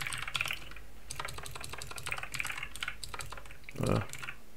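Quick bursts of typing on a computer keyboard, close up, with rapid clicky keystrokes and a brief louder thump near the end.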